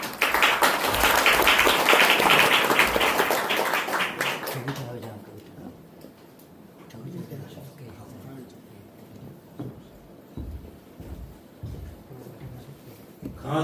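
Audience applause at a Korean rescue group's presentation event, a dense burst of clapping for the first few seconds that fades quickly into quiet room noise with scattered taps.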